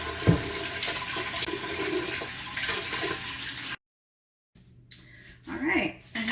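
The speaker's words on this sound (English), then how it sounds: "Let me wash up my hands." Water gushes steadily from a kitchen tap during hand washing, then stops abruptly, followed by quieter splashes and handling sounds close by.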